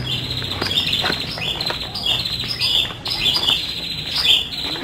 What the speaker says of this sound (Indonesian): Di sini burung berkicauan.